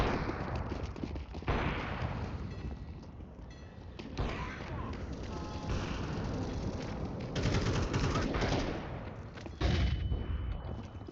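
Rapid video-game gunfire during a headshot challenge: dense bursts of shots and booming impacts fire almost continuously, loud and close, with brief lulls between volleys and no speech.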